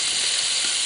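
Small fish fry in a pan outdoors on a trip to the Finnmark plateau, a loud, steady sizzle heard close up with no talking.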